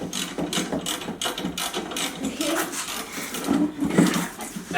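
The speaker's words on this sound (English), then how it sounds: "So I have a little socket wrench here." A small socket wrench ratchets steadily while loosening the blade bolts on a lawn mower, a close, rapid metallic clicking in repeated bursts with light handling noise between strokes.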